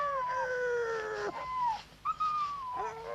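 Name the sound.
dogs howling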